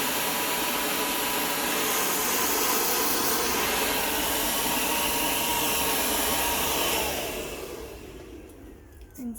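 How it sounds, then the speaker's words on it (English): Handheld blow dryer drying hair with a round brush: a loud, steady airy whoosh that runs for about seven seconds, then fades and cuts off near the end. "I'm going to set my blow dryer down"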